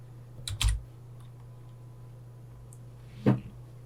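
Computer keyboard typing while coding an Android app in Kotlin, two short clusters of close key clicks separated by a quiet pause.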